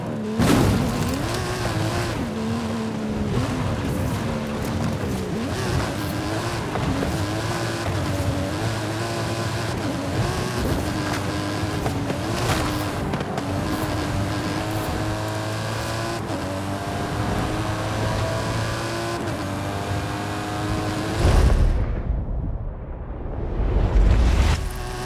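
Custom Mike Steel Special stunt car engine in the Forza Horizon racing game, roaring steadily with rising and falling revs as it is driven hard uphill, loud and continuous, briefly dropping away near the end.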